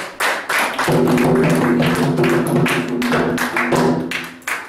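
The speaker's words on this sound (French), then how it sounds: "Acclamation pour le prophète" Rhythmic clapping from a church congregation acclaiming a prophet, steady and close, with a sung or sustained tone running beneath it.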